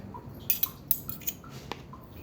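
A spoon clinks against dishes at breakfast, several light, sharp metallic taps scattered at an uneven rhythm, close and fairly quiet.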